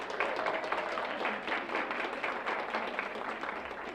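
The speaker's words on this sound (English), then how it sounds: "Can we clap for them?" An audience claps for members of a Teachers of Tomorrow club, a steady patter of many hands in a hall, moderately distant and fairly quiet, continuing evenly for several seconds.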